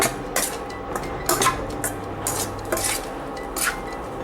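A spoon scrapes and stirs egg bhurji through vegetable fried rice in a metal pan, giving steady clattering strokes and clinks close by with no talking.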